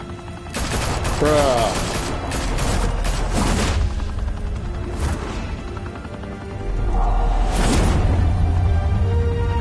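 Gunfire in a Telltale Batman game: several loud bursts of shots and impacts, with a brief crash and whoosh, under game voices and a short spoken remark.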